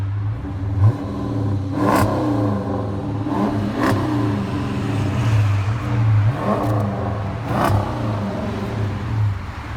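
A 2014 Chrysler 300C 5.7 HEMI V8 with dual exhaust and muffler delete revs repeatedly with a deep, rumbling exhaust tone, rising in short bursts over a steady idle, close and fairly loud.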